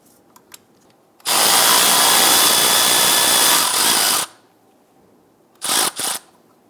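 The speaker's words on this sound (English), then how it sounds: "You need to remove this 10mm bolt." A power tool spins off a 10mm bolt on a 2000-2006 Toyota Tundra during a power steering pressure line replacement, a loud three-second whir followed later by two short bursts, with small clicks before it.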